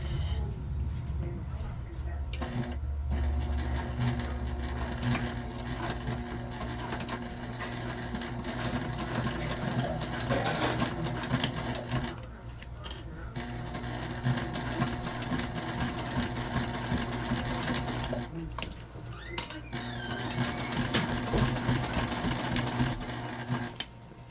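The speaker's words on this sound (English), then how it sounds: "Now we're just going to top stitch along the top of our pocket." A sewing machine top stitches along the top of a pocket on an Oxbow tote bag. Its fast, steady whir runs in several stretches with short pauses, and a voice is heard faintly over it at times.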